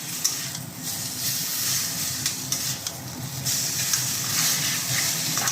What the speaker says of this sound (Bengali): এই মাথাগুলো দিয়ে একটু নাড়াচাড়া করে 1-2 মিনিট নাড়াচাড়া করে নিই